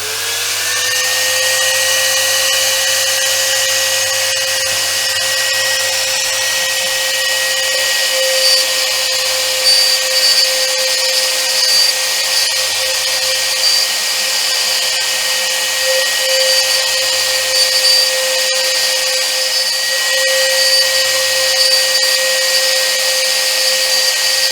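A Sainsmart CNC 4040 Pro router with a Rotozip as its spindle whines at a steady high pitch while cutting, loud and continuous throughout with only slight wavering and no speech.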